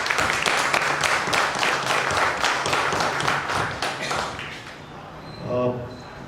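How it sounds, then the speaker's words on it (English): An audience applauds a Joint General Manager of the Airports Authority of India at a formal event, a brief burst of clapping that fades out toward the end, followed by a few faint tones. "A round of applause for him, please."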